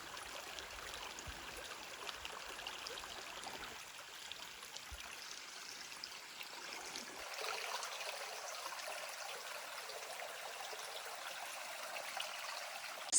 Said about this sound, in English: And you can hear this water.